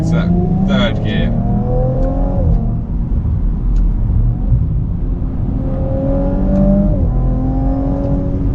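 A 2018 Audi RS4 B9 in dynamic mode with manual shifting accelerates hard in third gear on an open road, engine revs climbing steadily in a loud, close cabin roar, then easing and rising again, with someone talking over it.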